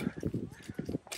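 Horse hooves clip-clop in a quick, even rhythm on a road near Neuschwanstein Castle, heard with people talking over them.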